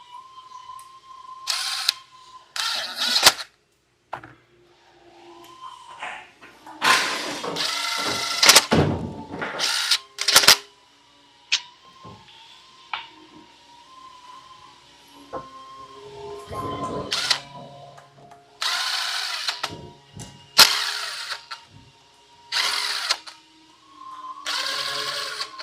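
Bolts being driven into a transmission during a GV70 solenoid repair: repeated bursts of whirring tool spin, separated by short pauses, alongside clanks and handling noises, fairly close and with no talking.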